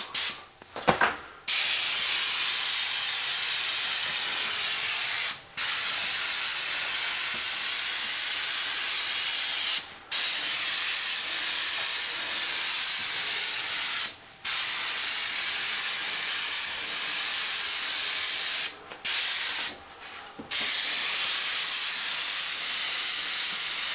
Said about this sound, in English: I'm bringing my hose in through the window and just spraying the ceiling